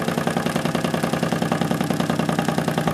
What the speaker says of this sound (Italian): vediamo il motore in azione